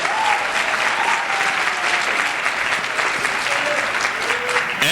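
Audience applause for a choral group at a high school Hispanic Heritage Month celebration, a steady, full round of many people clapping that holds at an even level with a few faint voices mixed in.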